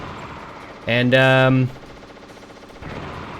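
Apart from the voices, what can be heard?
Vulcan Raven's cannon firing in Metal Gear Solid video game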